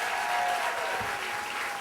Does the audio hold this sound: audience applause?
yes